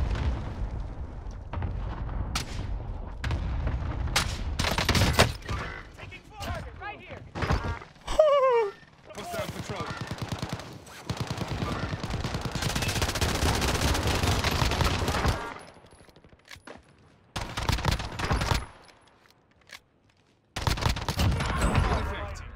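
Pistol gunfire in a Warzone battle royale match: clusters of sharp, close shots in quick bursts, broken by short quiet gaps, with someone talking over much of it.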